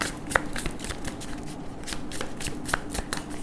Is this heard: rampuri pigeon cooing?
no